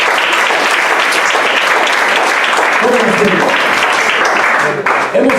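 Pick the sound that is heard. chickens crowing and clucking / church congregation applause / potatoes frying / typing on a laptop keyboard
church congregation applause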